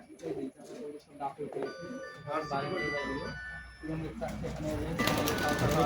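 Pigeons of the Rajshahi Giribaz breed coo softly in a loft, with tonal bird calls running under steady nearby conversation throughout.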